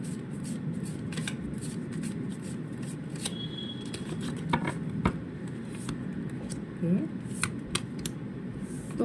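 Tarot cards are shuffled and drawn by hand, producing soft riffling and sliding card sounds with sharp flicks, close up over a continuous low background hum; a brief voice-like murmur appears midway.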